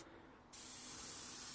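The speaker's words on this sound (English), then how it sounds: "If you want to do fine mist spraying." An airbrush lays down a fine paint mist on HO scale model wagons: a faint, even hiss starts abruptly after a brief pause and keeps on steady and close.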